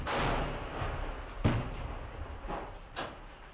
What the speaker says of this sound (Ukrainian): Вздовж цієї лінії оборони зненацька починається артпідготовка.